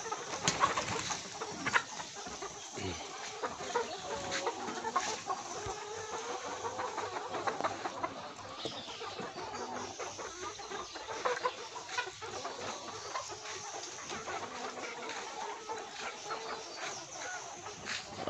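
Laying hens and young cockerels cluck and squawk throughout a poultry farm, a busy, steady chorus of overlapping bird calls with occasional louder cries, heard at moderate distance over a low background hum.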